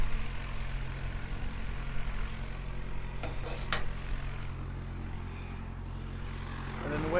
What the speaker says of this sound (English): turn on the pump, let the pump set up